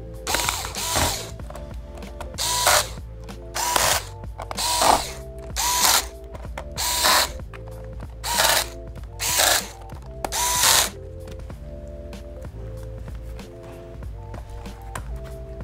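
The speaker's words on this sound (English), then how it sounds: "Now you can put the bottom cover back on. and tighten the screws." Power screwdriver tightening screws on the bottom cover of a Dell Chromebook 11 3110 laptop: about ten short whirring bursts in a steady rhythm, close and clear, separated by brief pauses over a faint background hum.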